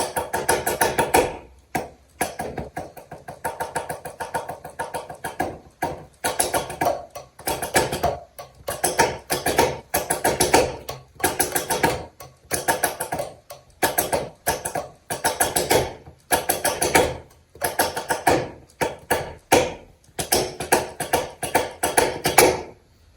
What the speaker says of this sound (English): Seems like heel up gives me more of a some kind of metal rattle in there